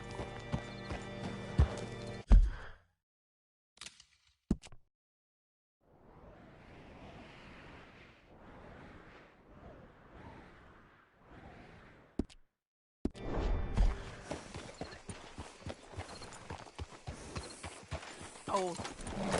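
Rhythmic clip-clop of horse hooves on hard ground in the video game Red Dead Redemption 2, broken by pauses, with a horse whinnying and snorting nearby.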